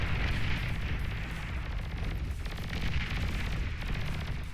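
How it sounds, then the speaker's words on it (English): Units firing in the real-time strategy game Beyond All Reason, a dense, continuous barrage of gunfire and explosive blasts that stays loud and steady throughout with no talk. "You can see how quickly that Vanguard goes down when bulls start shooting at it."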